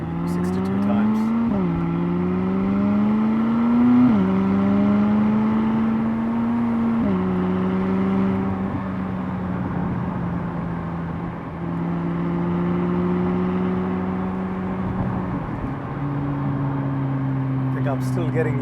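A 2016 McLaren 570S supercar engine drones continuously from inside the moving car, its pitch climbing steadily and then dropping at each gear change, several times in a row.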